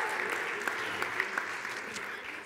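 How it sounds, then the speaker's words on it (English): Audience applause at an evening talk on planning hut-to-hut ski trips, a steady patter of clapping from a modest room crowd, moderately loud and even throughout with no voices over it. "And we're going to give you a round of applause."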